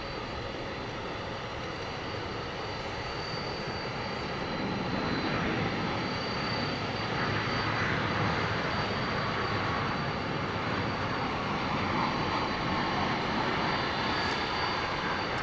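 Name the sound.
airplane engines at DFW Airport after pushback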